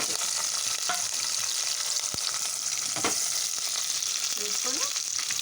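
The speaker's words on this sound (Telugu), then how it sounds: "ఆయిల్లో ఫ్రై చేసుకోవాలి." Onions, curry leaves and green chillies sizzling in hot oil for a curry, a steady loud frying hiss throughout with occasional pops and stirring clinks.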